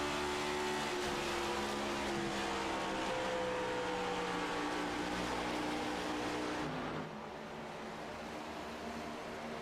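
A race car engine in iRacing at Twin Ring Motegi holds a steady, loud droning whine as it stays on throttle, then the pitch drops and the sound thins out; no talking is heard.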